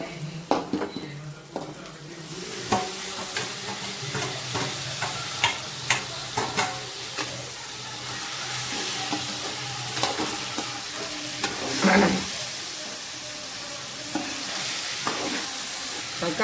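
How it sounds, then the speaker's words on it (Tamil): Tomatoes fry and sizzle in a pan while a spoon stirs them, with steady crackling throughout and repeated close scraping and clinking of the utensil against the pan. "ஃப்ரை பண்ணுறேன்."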